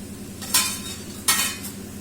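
Boiled pasta is stirred through red sauce in a pan: two short scraping, sizzling strokes rise above a low, steady background.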